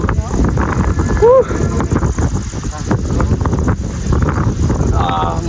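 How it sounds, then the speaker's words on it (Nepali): Strong cold wind roars and buffets against the microphone while riding an old, worn-out motorbike, rumbling loudly and continuously as people talk over it. "हाम्रो थोत्रो मोटर बाइकमा यस्तो दामी चिसो हावा आइरहेको छ"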